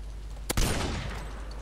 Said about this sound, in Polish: Kto strzelał?